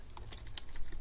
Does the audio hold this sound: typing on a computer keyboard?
yes